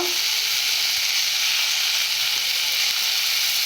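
Spices with chili powder and turmeric fry in a pan, making a loud, continuous, close sizzle with an even hissing texture throughout.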